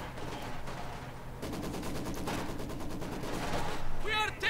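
Rapid bursts of small-arms and machine-gun fire from a Company of Heroes 2 battle, Soviet Maxim against German forces, crackle steadily and grow louder toward the end, with a short radio-like voice cue near the close.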